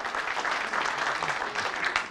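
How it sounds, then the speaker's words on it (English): Audience applause for a speaker named Simon at a talk on First World War military mining: a dense, steady patter of many hands clapping together for about two seconds. "So there, round of applause for Simon."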